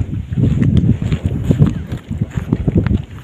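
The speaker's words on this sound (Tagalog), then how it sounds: "kasi mahangin dito" Strong wind buffets the microphone in heavy, gusting low rumbles that swell and fade constantly, loud and close, with no talking.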